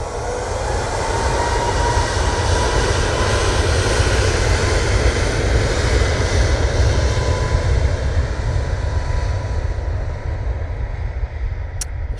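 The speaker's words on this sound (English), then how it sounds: "Ryanair 737 MAX 8 is off to Nantes." A Ryanair Boeing 737 MAX 8 jet takes off from Manchester Airport, its engines a loud, steady roar that holds strong throughout before easing slightly at the end.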